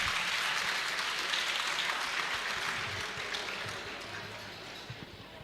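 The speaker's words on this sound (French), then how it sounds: "Sous vos applaudissements, Madame Sini Ndiaye." An audience at a French-speaking club event applauds, a dense burst of clapping that starts full and gradually thins and fades toward the end.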